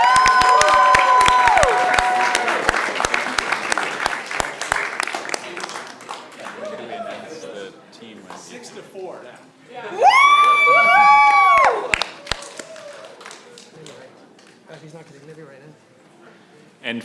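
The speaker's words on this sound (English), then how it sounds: "So let's give a big round of applause to Don" Audience at the National Press Club spelling bee breaks into applause and cheering for the winner, a loud burst of clapping with whoops and shouts that fades into scattered claps while voices continue over it.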